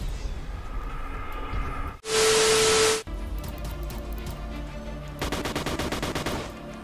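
Rapid gunfire in a Roblox game, first as a loud sustained burst, then as a later stretch of fast repeated shots over continuous game background noise.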